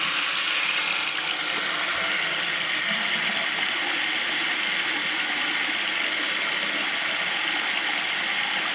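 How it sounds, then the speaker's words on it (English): Water runs steadily from a bathroom sink faucet just after a clog repair, a constant hissing, splashing stream that stays at an even level the whole time, with no voices. "Water's running."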